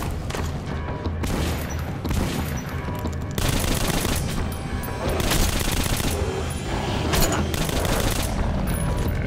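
A weapon fires rapidly in the first-person shooter Metro: Last Light, with loud, dense bursts of gunfire and booming impacts continuing almost without pause.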